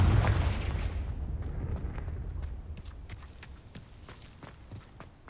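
A Confringo blasting spell shatters vases in the Hogwarts Legacy video game: one heavy close boom at the start, its rumble fading over a few seconds into faint scattered clinks and ticks.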